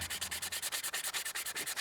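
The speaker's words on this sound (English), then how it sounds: "Just going to give it a really good sanding now." Sandpaper rubbed back and forth on a carved wooden spoon outdoors in the woods, a close steady rasping in quick even strokes, about ten per second.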